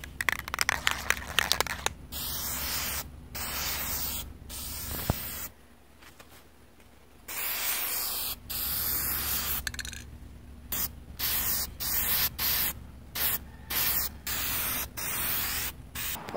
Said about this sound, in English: spray paint it following the directions on the back of your bottle